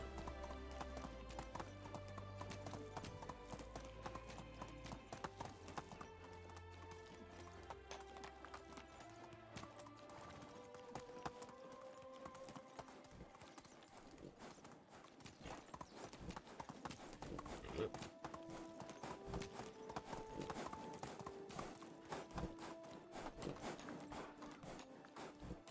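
Clip-clopping horse hooves in the Medieval Dynasty video game, a steady rhythmic trot of hoofbeats mixed with background game music, fairly quiet and continuous throughout.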